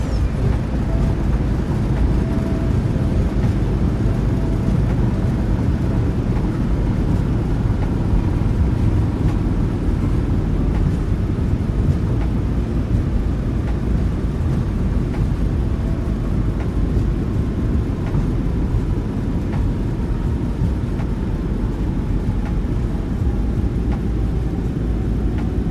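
Boeing 737-8 engines roaring in reverse thrust during the landing rollout in a flight simulator, a loud, steady broadband rumble that holds throughout with no talk.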